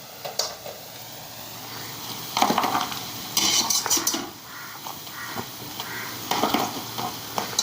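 Fried potato bhaji lifted from hot oil onto a plate, with scattered clinks and scraping of a utensil and a steady low sizzle of frying oil beneath, rising in short busy bursts.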